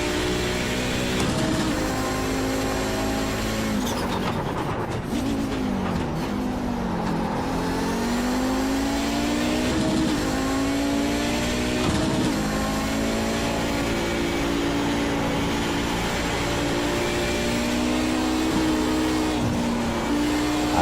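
iRacing race car engine roaring continuously through a slide, revs sagging then rising again in repeated pulls and shifts, loud and close with no speech.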